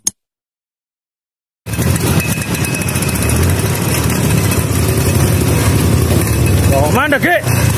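A Vespa scooter engine warming up, starting after a short silence and then running as a loud, steady, close idle for the rest of the clip, with brief rising whine-like pitch sweeps near the end.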